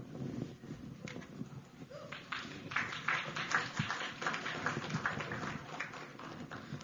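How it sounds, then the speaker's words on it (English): Audience applause at the Storelocal Innovation Summit 2024, a crowd clapping steadily that swells in the middle and holds at moderate volume in a large hall. "that applause was definitely for Sneha"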